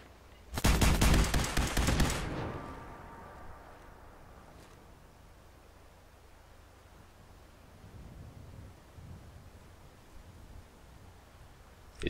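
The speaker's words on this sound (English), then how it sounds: "Now I have to do the rest in with my laser rifle." A quick, loud burst of laser rifle fire in Fallout 4 survival mode at Fort Strong, a dense volley of shots lasting under two seconds, followed by faint background rumble and a few distant thuds.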